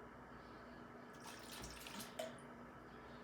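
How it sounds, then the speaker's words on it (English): Tap water running softly over an ice cream churn to rinse off salt water, a faint steady splash with a brief louder surge midway. "we'll wash the salt water off"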